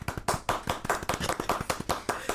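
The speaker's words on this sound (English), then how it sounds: "Hand clap." Several sharp hand claps ring out close and loud in a quick, uneven run, each a crisp broadband burst with brief gaps between, with no voices over them.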